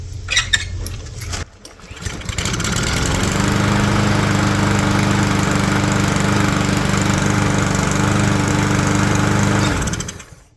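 Cub Cadet CC 550 walk-behind lawn mower, left sitting for eight years, coughs through a few uneven pull-start bursts, then catches and runs loud and steady at close range before cutting off.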